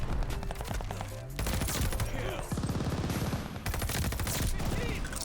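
A three-round burst rifle fires rapid, repeated bursts in Call of Duty: Vanguard, loud and continuous with overlapping shots and game effects throughout.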